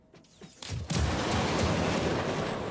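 Ship weapons on a Taurus firing in Star Citizen: a couple of faint shots lead into a heavy booming blast that swells into a sustained roaring rumble.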